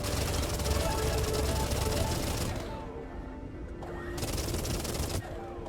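Rapid weapon fire shooting crystals in the space game Everspace 2, a dense continuous burst that drops out briefly and resumes, loud and close.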